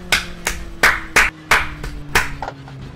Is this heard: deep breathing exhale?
no